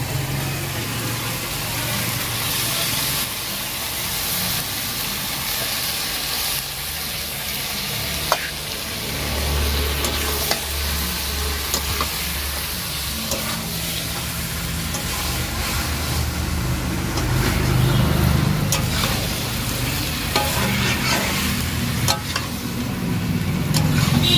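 Mutton fat and liver pieces fry in a pan with a steady sizzle and occasional stirring scrapes, building slightly louder toward the end, with no talk.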